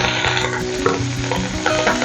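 Shallots and curry leaves hit hot oil that already holds mustard seeds and fenugreek for a Tamil ivy gourd dish. The sizzle is loud, close and steady, with stirring scrapes running through it.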